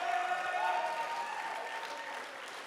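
A church audience applauds a young woman's return from the hospital, steady clapping that carries broadly from start to finish and tapers slightly toward the end, with a sustained tone lingering faintly underneath.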